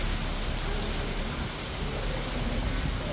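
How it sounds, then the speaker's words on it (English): Steady heavy rain pours down during a thunderstorm in Memphis, a dense continuous hiss with no pauses, loud and close, no voices. "we're having some more rain"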